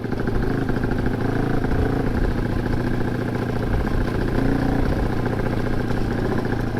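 Motorcycle ridden solo in GL W9 style along a road after sahur, its engine droning steadily and loudly up close with a constant rumble and no talk.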